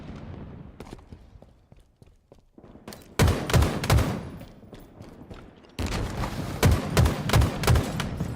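Gunfire in a Halo esports match, with several bursts of sharp shots and thuds coming in clusters over a busy game background, louder in the second half.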